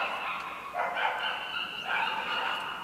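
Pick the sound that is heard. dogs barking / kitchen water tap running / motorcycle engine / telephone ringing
dogs barking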